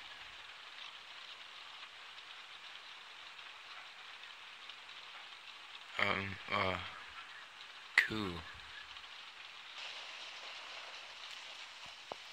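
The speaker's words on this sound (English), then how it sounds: "It's raining, raining, raining. It's a rainy day." Steady rain falls throughout a scene in The Walking Dead video game, a continuous soft hiss interrupted by a few brief louder thumps and a short spoken word.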